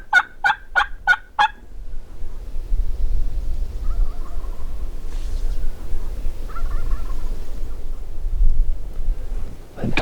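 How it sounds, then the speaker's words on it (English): Merriam's wild turkeys gobble in a quick burst of five sharp, fairly close calls at the start, followed by fainter, more distant gobbles later, all over steady wind and low rumble in high desert country. "just with the sound of their gobbling"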